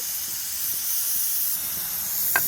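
Potato pieces frying in hot oil, giving a continuous, even, bright sizzling hiss with no talking.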